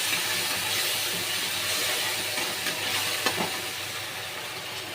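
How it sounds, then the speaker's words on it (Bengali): Onion mixture and green chili stirred with a little water into a pomfret poppy-seed curry, giving a steady close hiss and bubbling with a few soft scrapes and taps, no talk. "এবার পেঁয়াজের মিশ্রণটা দিয়ে দেবো, কাঁচা লঙ্কাটাও দিয়ে দেবো, হালকা একটু জল ব্যবহার করবো, করে একটু ভালো করে নেড়ে ছেড়ে নেব।"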